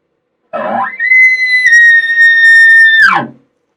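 A hand call imitates an elk locate bugle: a single loud, clear whistle that rises in a brief raspy growl, sustains a long high tone, then drops away at the end.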